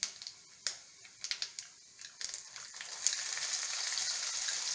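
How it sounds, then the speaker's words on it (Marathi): Mustard and cumin seeds popping in hot oil in a kadhai, sharp scattered crackles, then chopped onion added and sizzling in a steady, fairly quiet hiss. "मोहरी जिरं तडतडलं की कांदा घालते"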